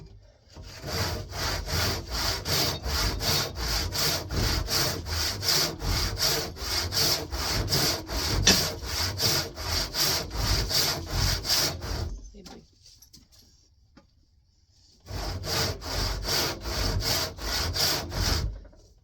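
Ash wood being hand sawn into a 2x4, loud rhythmic back-and-forth saw strokes in a fast steady pattern, pausing for a few seconds of near silence before the strokes resume.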